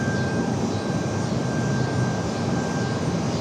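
Jet airliner departing Raleigh Durham airport, a steady broad engine roar that holds at constant loudness throughout with a thin whine above it, no voices present.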